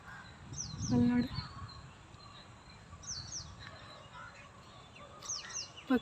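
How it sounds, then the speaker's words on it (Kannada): Small birds such as sparrows calling in green countryside, a few short chirps and tweets scattered across the moment, faint against a soft outdoor background with a brief closer rustle near the start. "ಪುಟ್ಟ ಪುಟ್ಟ ಹಕ್ಕಿಗಳು, ಗುಬ್ಬಚ್ಚಿಗಳು"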